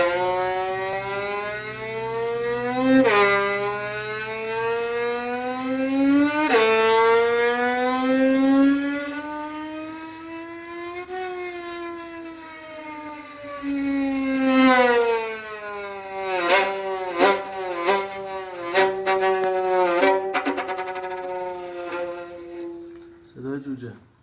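A bowed violin mimics a motorbike engine, long rising and falling revving glides, then quick stuttering bursts like throttle blips, loud and close.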